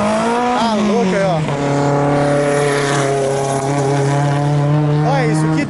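Drift cars during night practice at a Super Drift Brasil 2020 event at Mega Space in the mountains, heard as loud, sustained engine roar rising and falling in pitch with a faint squeal, close and continuous.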